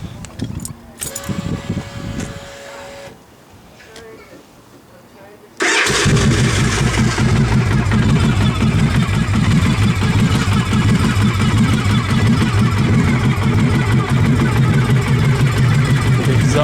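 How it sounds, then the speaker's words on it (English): A Victory 92 cubic inch motorcycle with unbaffled exhaust cranks and catches after some jingling and handling noise, then settles into a loud, steady, close idle; someone speaks briefly before it fires. "I'll fire it up for you."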